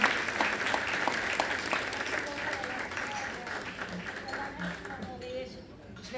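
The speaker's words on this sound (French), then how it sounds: "Applaudissons-la encore." Audience applause at an annual alumni gala during a plaque presentation, a sustained crowd clapping that swells and gradually thins, with voices talking underneath and a few murmurs emerging as the clapping fades.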